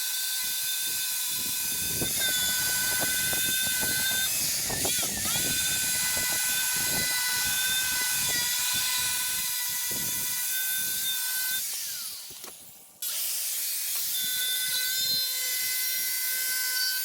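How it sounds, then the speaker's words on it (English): A power tool whines steadily while polishing paint off a metal part for a Takeuchi TB210R excavator thumb install, its high pitch wavering as pressure changes, with a short dip before it resumes. "We're gonna polish that up just a little bit, knock that paint off of there"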